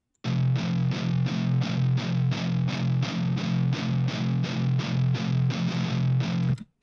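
Distorted electric guitar loop from a metal song, time-corrected, with loud, tightly repeated palm-muted chugs in an even rhythm running for nearly seven seconds before cutting off cleanly.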